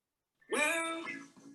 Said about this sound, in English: Sorry, that's my alarm.